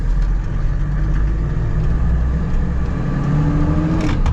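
A Mercedes G-Wagon diesel with a manual gearbox, heard from inside while driving as a steady low engine rumble and drivetrain whir with a slight rise in revs, close and continuous, with no talk.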